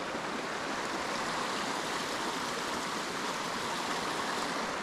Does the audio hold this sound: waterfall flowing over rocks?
yes